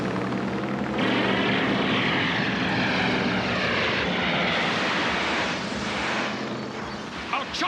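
Helicopters fly in an animated police cartoon, a loud, continuous rotor and engine roar with a sharp swell partway through, steady and close throughout.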